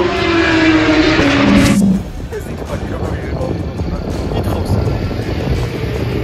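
A drift car launches hard, its engine note loud and rising for about two seconds before dropping to a steady, rougher rumble with broadband roar, while people talk nearby.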